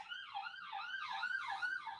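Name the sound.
sirens in the background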